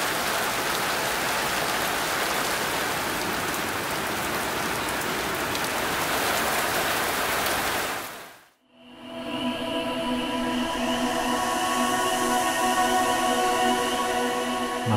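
Steady rain pours down in Kolomna, Russia, a dense even hiss; it cuts out abruptly for a moment, then resumes with a faint tonal hum beneath the downpour.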